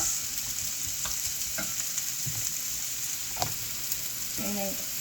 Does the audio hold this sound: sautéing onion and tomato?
yes